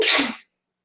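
One sharp, loud sneeze close by, bursting out and fading within half a second, then silence.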